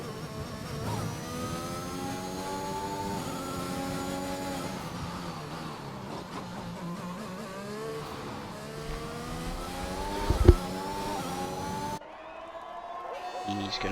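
A race car engine from a video game laps Silverstone on medium tyres, its revs climbing and dropping through gear changes in a steady whine under a commentator's voice, then cutting off abruptly near the end.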